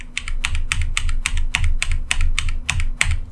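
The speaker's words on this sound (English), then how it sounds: "when I type, I always bottom out so you can hear the sound" Mechanical keyboard keys bottoming out hard during steady typing, a rapid run of about a dozen sharp, loud, close clacks with an even rhythm and no talking.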